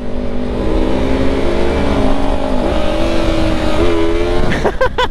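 A motorcycle engine drones loudly and close up, holding a steady pitch as it downshifts, then revs sharply with rising bursts near the end. No one speaks.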